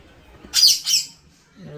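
A parrot gives two sharp, harsh squawks in quick succession, close and loud, followed by a brief voice.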